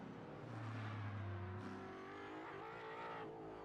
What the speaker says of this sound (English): Fitting for Mustangs there. Some of the grumbliest and grumpiest of engine notes.